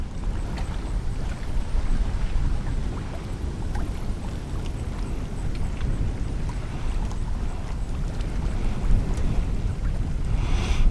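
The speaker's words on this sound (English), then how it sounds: "Well, it's windy." Steady wind roars and buffets across the microphone outdoors at Lake Nocona, Texas, with a low rumble and faint splashing of water underneath, continuous throughout.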